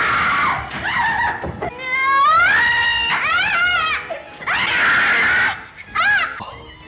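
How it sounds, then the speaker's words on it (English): A landlady's shrill, sustained screams from the 1933 film The Invisible Man ring out in several loud, wavering bursts with brief gaps, rising and falling in pitch, with no talking. "apart from that landlady that just won't shut the fuck up screaming"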